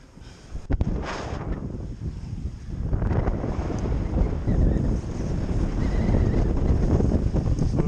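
Steady, heavy wind buffeting the microphone aboard a sailing boat on open water, a continuous roar that swells after a few seconds, with faint splashing and creaking beneath it.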